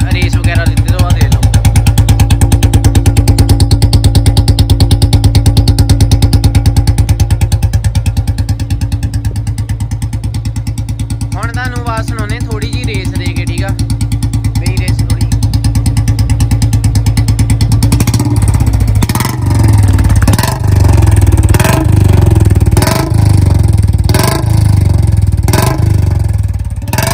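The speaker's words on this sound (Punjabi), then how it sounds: "ਇਹ ਹੈਗੀ ਆ ਖੜੇ ਬੋਲਟ ਦੀ ਆਵਾਜ਼ ਬਿਨਾਂ ਕੋਈ ਰੇਸ ਵਗੈਰਾ ਦਿੱਤੇ ਤੋਂ ਬਾਅਦ" A Royal Enfield Bullet BS6 motorcycle fitted with a C-bend exhaust pipe idles close by with a loud, steady thumping beat, the pulses sharpening toward the end while someone talks over it.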